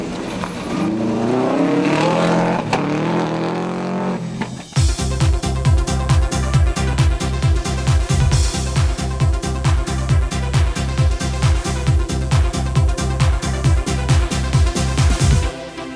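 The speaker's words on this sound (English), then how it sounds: "Dunn is having another fine run in the Subaru Legacy as he heads towards a top Tarmac Championship place" A Subaru Legacy rally car is driven hard on tarmac at the Summit 2000 Rally. A loud, close engine roar rises to a rapid, steady pulsing drone of rhythmic exhaust beats that runs unbroken for about eleven seconds.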